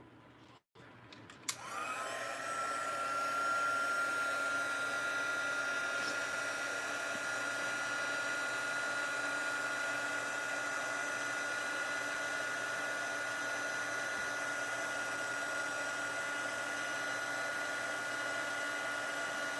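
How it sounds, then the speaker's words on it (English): A heat gun switches on with a click and then blows hot air in a steady, loud, close whirring hiss that holds for the rest of the clip. "And now I will hit this with the heat tool"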